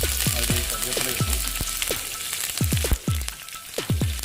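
Mustard seeds splutter and pop in hot oil for a Kerala-style fish fry, a rapid scatter of sharp crackles and spits over a steady background sizzle.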